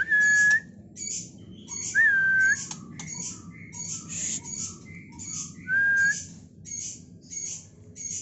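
A murai batu (white-rumped shama) from Medan singing nearby, clear whistled notes and rapid chirping phrases repeated in short bursts over a faint background hum, with no talking.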